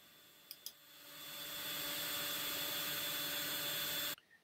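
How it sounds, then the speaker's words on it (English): A power sander works the routed edge of a Bradford pear wood charcuterie board, smoothing off the leftover ridge: a steady, close whir that builds over the first second or so, holds loud and constant, then cuts off abruptly near the end. "Now I'm just sanding off the little ridge that's left by the router after you route both edges."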